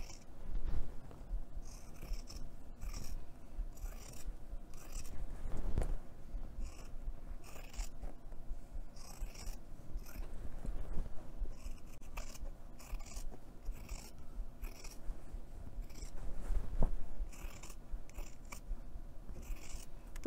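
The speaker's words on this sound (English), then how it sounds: "I'm going to trim that seam down in half, so to approximately a quarter of an inch" Scissors trim a sewn fabric seam down to about a quarter inch on a fabric storage bin, a close, steady run of crisp snips and soft blade rasps repeating every second or so with no talking.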